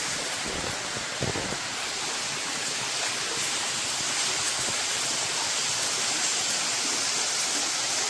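Kuntroo cave waterfall in Deogarh, Odisha, pours as a loud, constant roaring rush of falling water, close and unbroken, with no voices.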